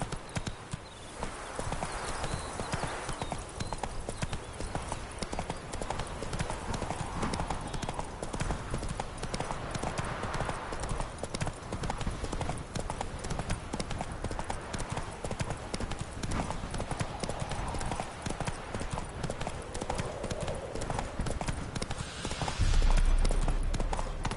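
Galloping horse hooves from The Witcher 3 video game pound in a steady, fast clip-clop rhythm throughout, loud and continuous, with a brief low thump near the end.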